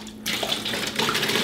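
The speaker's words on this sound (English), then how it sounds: "So what you wanna do to make water pour out faster is to make this movement, swirl it like this." Water pours fast and steadily out of a swirled water bottle, a loud continuous gushing rush that starts abruptly and carries on to the end.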